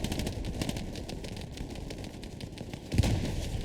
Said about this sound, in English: Ooh, nasty artillery shot.